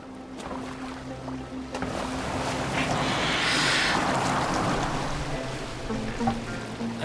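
Boat gliding over open water in Assassin's Creed Valhalla, a steady wash of waves and hull spray swelling toward the middle, with a low sustained hum underneath and no voices.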